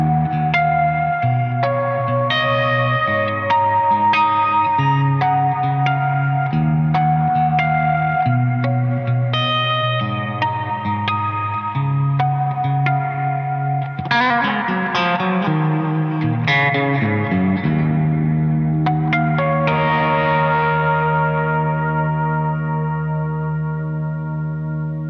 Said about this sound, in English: the Dream reverb, which is a lush and smooth and huge reverb tone